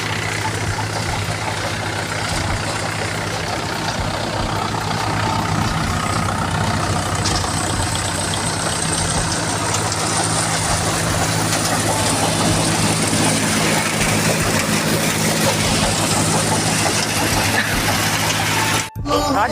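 Tractor engine idling with a steady heavy rumble that holds unchanged for a long stretch, close and loud, cutting out briefly just before the end; talk may sit faintly beneath it.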